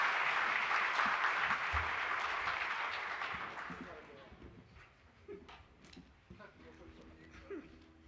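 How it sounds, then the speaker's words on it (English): Audience applause at a 2023 youth ministry presentation, a dense sustained clapping that fills the first few seconds loudly, then thins and fades away, leaving scattered claps and room noise. "give them a round of applause for being here tonight and their help and effort"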